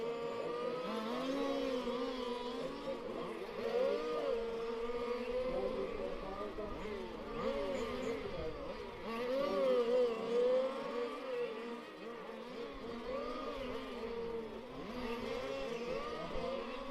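Race cars running during a finals race at Bad Breisig, a whining engine drone that rises and falls as cars pass, heard at moderate distance beneath an announcer talking over it.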